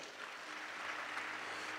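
A church congregation claps together during a Sunday sermon, a steady wash of applause held at an even level throughout, with no voices standing out.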